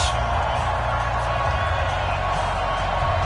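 Stadium crowd at a Miami Dolphins versus Kansas City Chiefs football video game, a loud, dense, continuous roar of cheering with commentary voices mixed underneath.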